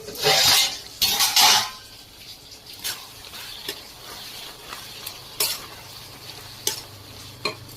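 Boiled broad beans fry in a pan while being stirred, giving loud scraping utensil strokes against the pan early on, then softer sizzling broken by intermittent clinks and scrapes.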